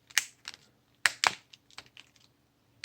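Plastic front housing of a Sony Ericsson K300i phone from 2005 being pressed back on, its worn snap clips giving a quick series of close, sharp clicks and taps in separate bursts.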